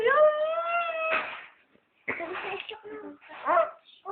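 A dog lets out a drawn, wavering whine close by, followed by a pause and then people talking nearby.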